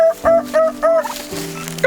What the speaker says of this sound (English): we had to head back over to the pasture to round up the remaining heritage turkeys